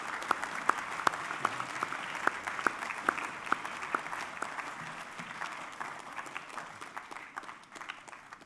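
Students at a school sports assembly give a round of clapping for an award winner, a steady patter with some crisp nearby claps early on that gradually thins and fades.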